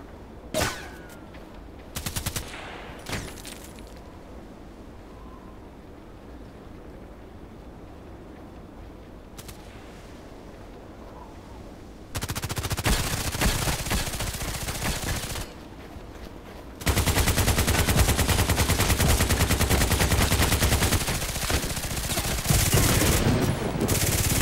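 Glock pistol fire in a first-person shooter video game: a few sharp shots early, then quiet, followed by long, dense, loud stretches of continuous gunfire.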